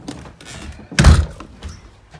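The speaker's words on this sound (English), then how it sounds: "I'll close the door." A house door is pushed shut with a single close, heavy thunk, surrounded by light shuffling and handling noises.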